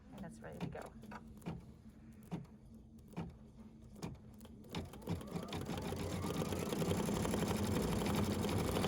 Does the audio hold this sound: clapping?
no